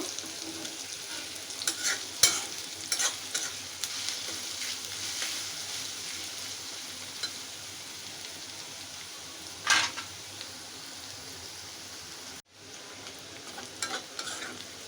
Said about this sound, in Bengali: এখানে তেলটা দিয়ে নিলাম এটা আমি এখন ব্রাউন করে ভেজে নিব